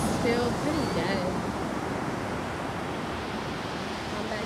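Ocean surf at Laguna Beach rolls in as a broad, steady hiss of breaking waves, loudest at the start and then settling into a constant wash, with faint voices briefly audible early on.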